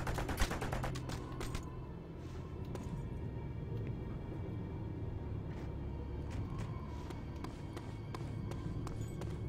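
Gunfire in the video game Just Cause 2: a cluster of sharp shots in the first second, then sparser scattered shots over a steady loud rumble of game action.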